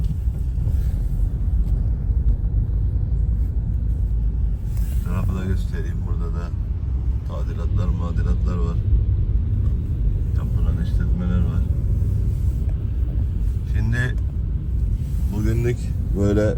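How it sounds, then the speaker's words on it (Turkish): Morning street traffic in Antakya, Hatay on an overcast, rainy day, with a steady low rumble of passing cars and engines near and far, under someone talking throughout. "Sabah trafiği."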